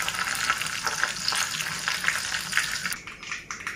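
Four dried red chillies frying in hot tempering oil, a close crackling sizzle with small pops that fades and thins toward the end.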